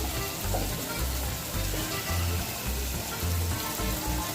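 Paneer tomato curry masala with turmeric frying in a pan, a steady, dense close sizzle with a soft low rhythmic bubbling, no voices.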